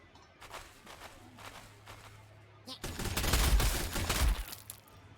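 Gunfire in the Warhammer 40,000: Sanctus Reach strategy game, a quiet lead-in followed by a dense burst of shots and impacts over a couple of seconds.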